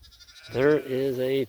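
Sheep and young lambs bleat in an open field, giving two loud, close, wavering calls one after another following a brief quiet start.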